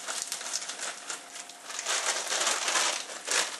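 Scissors snipping and crinkling through plastic pasta packaging in a kitchen, a close, continuous rustle of crackling wrapper and cutting for a few seconds.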